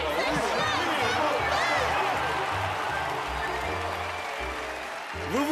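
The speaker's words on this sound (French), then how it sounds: "Applaudissez bien fort l'incomparable Ravageur, le vainqueur du grand concours canin de Bois-Hollywood de cette année." Cartoon crowd applauding the winner of a big dog show, steady loud clapping and cheering throughout with a rhythmic music bed underneath and a voice speaking over it.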